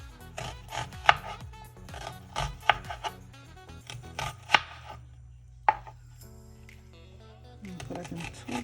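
Knife chopping through an onion on a cutting board while making Jamaican jerk chicken, a series of sharp, close, irregular cuts spaced over several seconds with some kitchen clatter at the end.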